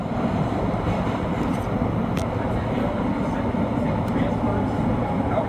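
A New York City subway E local train on the 6th Avenue line pulls into Delancey Street–Essex Street, giving a steady, loud rumble of wheels and motors that fills the whole stretch without letting up.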